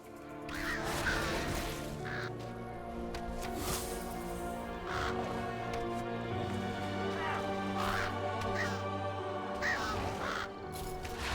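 Birds in World of Warcraft, with repeated harsh crow-like caws and sharp pecking knocks scattered over a steady musical game background, fairly loud and close.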